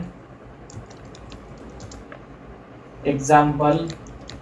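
Keys clack on a computer keyboard while a line of text is typed, with quiet scattered taps at first, then a brief close burst, and someone speaking over the typing.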